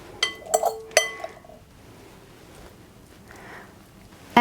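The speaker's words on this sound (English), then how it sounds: "all we need to do now is just serve the courgette onto a plate" Courgetti being served onto a plate, with a few sharp clinks of utensils against dishes in quick succession, then quiet room tone and a final clink.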